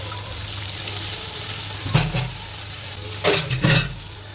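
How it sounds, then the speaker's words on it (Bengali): Water poured into a pan of sautéed spices gives a couple of short splashing bursts over a steady background hum, fairly close and without talk. "জল দিয়ে দিলাম"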